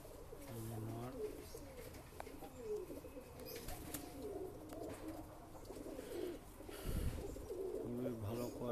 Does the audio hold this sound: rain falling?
no